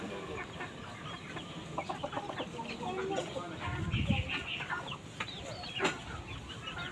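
Free-roaming backyard chickens clucking softly as they eat, with scattered close clucks and quick peck-like sounds over a low outdoor background.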